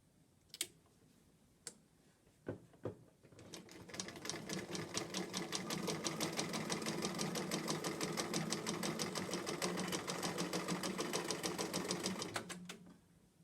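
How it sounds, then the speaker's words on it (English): A sewing machine stitches down a quilt corner: a few clicks and taps of setup, then a fast, steady rattling hum of the needle for several seconds that stops abruptly, heard close with no talking. "So let me sew the corner down here"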